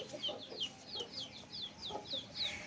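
Several chickens cluck close by in a steady run of short, repeated calls, one bird after another, clear and moderately loud with no talking over them.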